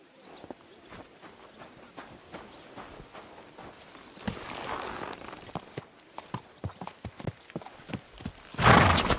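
Horse hooves clop at a slow, steady walk in Kingdom Come: Deliverance II, fairly close, with the horse snorting briefly near the end.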